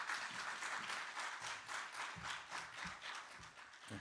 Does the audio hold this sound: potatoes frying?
no